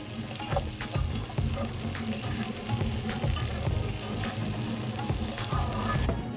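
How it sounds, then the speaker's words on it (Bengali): Potato pieces fry in oil in a pan for a Bengali hilsa fish curry, giving a steady close sizzle with occasional stirring scrapes throughout. "আলুগুলো ভাজা হয়ে যায়"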